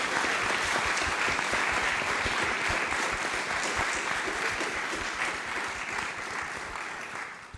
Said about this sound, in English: let's have a round of applause for our esteemed panelists